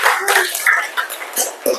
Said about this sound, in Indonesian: Betul sekali, tepuk tangan dulu.